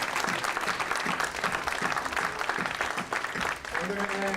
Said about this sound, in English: All the veterans in the room, please stand up and get an applause.